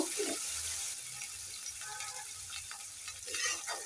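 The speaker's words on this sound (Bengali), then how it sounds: "মশলাটাকে ভালো করে ভেজে নেব।" Onion, garlic and ginger paste sizzles gently in a pan while a spoon stirs and scrapes it, producing soft irregular clicks over a continuous frying hiss.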